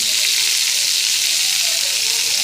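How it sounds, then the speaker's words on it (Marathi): Garlic and green chillies sizzling loudly in hot oil with toasted cumin and mustard seeds, a steady close frying hiss with no pauses. "जिरे थोडेसे भाजले की आपल्याला टाकायचं आहे लसूण मिरची"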